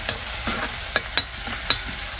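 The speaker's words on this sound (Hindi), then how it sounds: "ऑयल के बाद इसमें थोड़ा सा लहसुन और मिर्च डाला गया है। थोड़ा सा इसको फ्राई किया जाएगा 2 मिनट के लिए।" Garlic and chili frying in oil for a Surinamese dal bhari roti dinner, a continuous close sizzle with a few sharp stirring clicks and pops, no talk.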